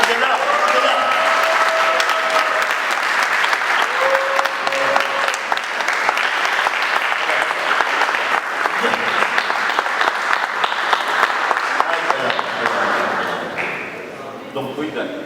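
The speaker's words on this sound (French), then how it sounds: "un tonnerre d'applaudissements pour lui quand même" Thunderous applause fills a documentary screening at a Walloon centre, a dense sustained roar of clapping from a large audience with a few whistles and shouts on top, thinning slightly near the end.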